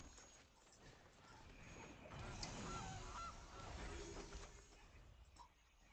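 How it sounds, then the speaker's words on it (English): A goose honks in the card game MTG Arena, a few short game-effect calls set in a busy, noisy mix that swells in the middle and fades toward the end. "Goose."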